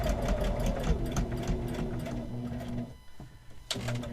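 A sewing machine stitching an Easter lily design whirs in a fast, steady motorized rhythm up close, then briefly slows and pauses before starting up again, with no speech.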